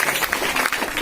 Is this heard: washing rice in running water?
no